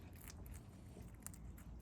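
A dog crunches a treat up close, a faint, brief run of crisp bites and chewing over a low background rumble.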